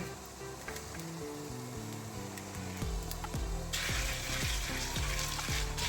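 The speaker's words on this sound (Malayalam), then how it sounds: "മുളക് മല്ലി നന്നായിട്ട് മൂത്ത് വന്നിട്ടുണ്ട്" Coriander seeds and dried chillies dry roast in a pan, a faint crackle and stirring rustle under louder rhythmic background music that swells toward the end.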